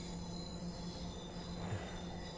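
A train runs in a train simulator video game, giving a steady rumbling roll with a faint high wheel squeal that rises briefly near the end, under a constant electric hum.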